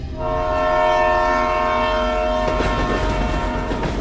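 An animated train effect: a steady sustained horn tone holds, then cuts to a rumbling, clattering run of wheels on rails, loud and close.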